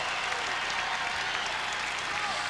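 A crowd at a college basketball game, Indiana against Morehead State, applauds and cheers after a slam dunk: dense, steady, loud clapping and roar filling the whole stretch.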